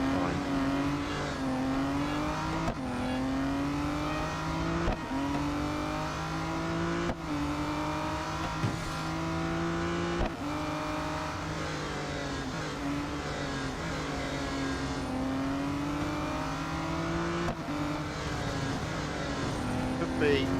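A V12 speedster engine roars continuously in the racing game Real Racing 3, loud and steady with repeated revving surges and gear shifts as it laps the track, and a voice talks over it.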